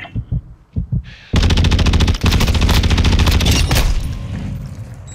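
Automatic weapon fire in a Call of Duty: Modern Warfare multiplayer match, a few single shots then a loud sustained rapid burst lasting several seconds before it tapers off.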